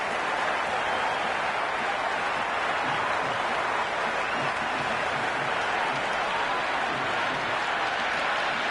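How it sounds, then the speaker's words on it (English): A packed stadium crowd at a cricket match in the Cricket 26 video game roars and cheers as one continuous, loud wash of noise with no breaks. "It's evident and ever so audible that the crowd is at near bursting point at today's play."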